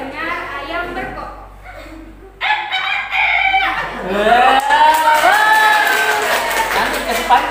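A human voice imitates a rooster crowing during a storytelling session, giving several drawn-out, rising and falling calls that grow louder, with faint crowd noise behind.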